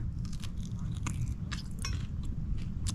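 Close, quiet crunchy bites and chewing of beef jerky against a low rumbling background, with irregular short crackling bursts.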